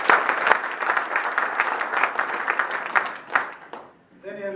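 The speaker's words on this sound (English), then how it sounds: "Let's give them a round of applause." Audience at a Rotary meeting applauding anniversaries, a steady room-filling round of clapping lasting about four seconds before fading, followed by a voice starting to speak.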